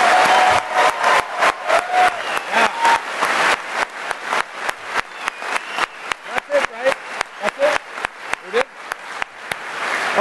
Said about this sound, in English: let's give a big round of applause for the Rio.